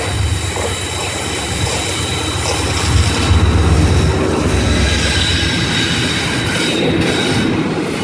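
Class 68 and Class 37 diesel locomotives running light through Carlisle on the West Coast Main Line, a steady loud rumble of engines and wheels on rails that swells slightly midway with no talk.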